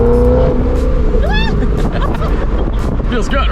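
A 640-horsepower Corvette ZR1 accelerates hard at full throttle, its engine note climbing loud and close from inside the car, with voices briefly audible over the roar.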